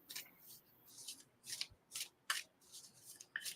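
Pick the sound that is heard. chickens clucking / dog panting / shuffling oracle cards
shuffling oracle cards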